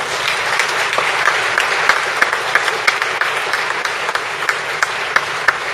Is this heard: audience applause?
yes